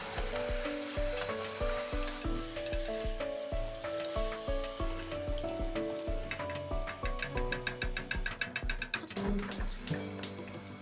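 Eggplant slices fry in a hot pan with a steady, soft sizzle under continuous background music with a plucked melody and bass, and no talking.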